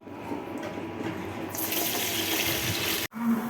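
Rice being rinsed under a running kitchen tap, a steady broad rush of water into the sink that brightens and fills out midway, then cuts off sharply near the end, with no voices.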